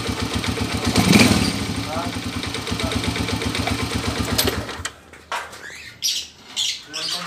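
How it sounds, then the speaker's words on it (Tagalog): A Honda TMX155 motorcycle engine with piston slap idles close by in a steady, rapid knocking chug that rises briefly, then cuts off, leaving people talking over faint background noise. "Yan, narinig nyo yung andar ng Pinoy 155 mga bro."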